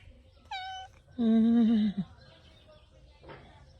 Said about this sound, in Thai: นี่อีกตัวหนึ่งนะแมวแมว